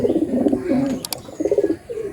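Pigeons kept in a loft coo loudly and close up, with a long throaty coo, a brief gap broken by a sharp click, and then a second pulsing coo. No voices are heard.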